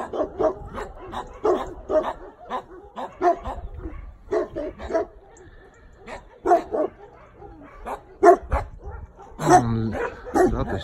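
Several dogs in a shelter enclosure bark repeatedly at close range, a busy overlapping run of sharp barks and yips with a few whimpers mixed in.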